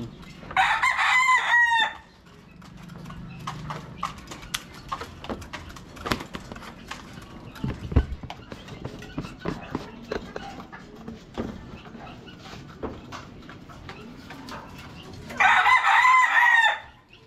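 Roosters crow loudly at the start and end, with chickens clucking and scratching faintly in between on a poultry farm.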